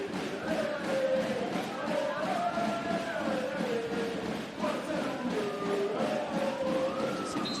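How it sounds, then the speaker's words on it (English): A crowd at a Superlega volleyball match between Lube and Trentino is urged on by loud hailers, with amplified calls rising and falling over the steady din of the arena while a commentator talks over it. "guys with the loud hailers urging the crowd"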